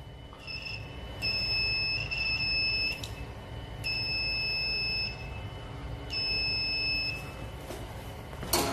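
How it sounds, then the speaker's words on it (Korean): Insulation resistance tester's buzzer sounding during a continuity check on a wire, three steady electronic tones, each about a second long, separated by short gaps, loud and close over faint background hum. "이거는 끊어진 상태가 아니기 때문에 부저가 울리겠죠?"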